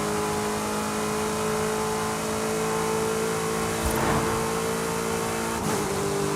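A sports car with an early-1990s feel roars at high speed in sixth gear in Forza Horizon 5, played with a steering wheel; the engine holds a loud, steady, close drone as it keeps pulling past 175 mph.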